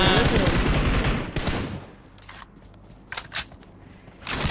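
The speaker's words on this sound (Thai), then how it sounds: "ฝั่งขวายิงมาข้างบนน่ะ" Gunfire in the battle game PUBG Mobile: a dense burst of automatic fire fills the first two seconds, then a few sharp, separate shots crack out at mid-distance over quieter game ambience.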